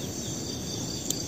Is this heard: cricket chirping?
yes